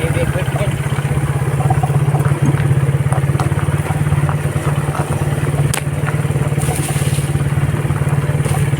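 A motorcycle rides along a rough farm road, its engine giving a steady mid-pitched drone with occasional clatter from the bumpy track, loud and continuous throughout.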